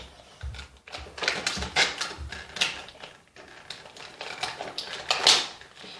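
Scissors snip through the plastic packaging of a toy, giving a quick run of crisp, close cuts and crinkles that pause briefly before resuming, with no talk over them.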